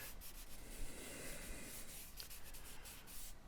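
Soft, close scratchy rubbing of powdered charcoal being worked across paper during gesture drawing, a faint continuous friction with slight strokes and no voices.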